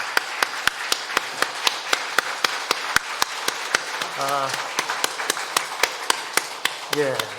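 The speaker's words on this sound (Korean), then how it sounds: "우리 한번 성가대원도 수고했는데 박수 한번 하겠습니다" A church congregation claps for the choir in steady unison beats at a brisk, even pace, with a voice briefly singing or speaking partway through.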